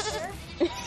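A baby goat gives two short, close bleats in quick succession at the end of a brief, otherwise quiet moment outdoors.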